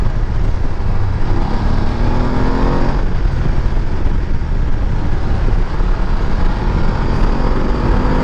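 A 2020 BMW F850 GS motorcycle engine pulls hard under acceleration, a loud, steady, continuous roar with wind rush throughout, heard up close from the rider's position with no pauses.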